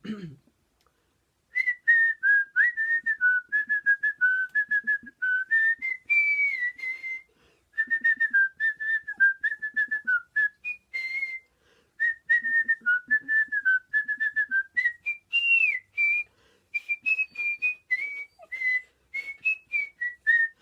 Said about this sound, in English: I can whistle if you want me to.